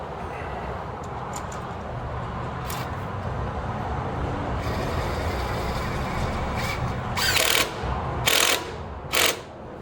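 A ratchet wrench tightens a bolt during a KC Stage 1 turbo install on a 6.0 Powerstroke diesel, with a few short bursts of rapid clicking near the end over steady low shop noise.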